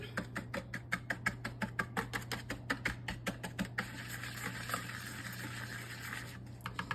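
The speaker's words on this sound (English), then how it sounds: "this little small whisk is perfect for things like this. I'm just gonna mix all that up" A small whisk beats a glaze sauce in a bowl, giving a quick, steady run of light metallic clicks and scrapes close by that give way to a softer continuous swishing stir.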